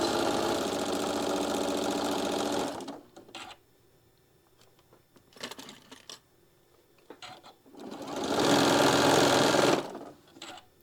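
Sewing machine stitching runs loud and steady for a few seconds, then stops for short taps and clicks, and a second burst of stitching follows before it stops again.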